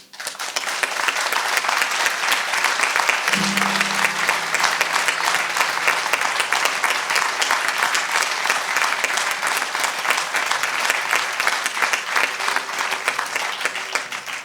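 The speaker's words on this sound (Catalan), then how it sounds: "Si us plau, per ell, un aplaudiment." Sustained applause from a large audience fills the whole stretch, dense and steady clapping without pause, with a brief low hum partway through.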